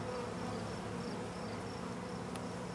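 Honey bees drone steadily around an open hive during an inspection, a dense continuous buzz close by with faint high tones drifting over it and no talk.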